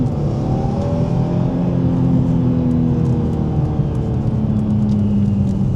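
A BMW M3 E46 engine revs and accelerates up close, its tone sweeping upward and dipping through gear changes, loud and continuous with no voices.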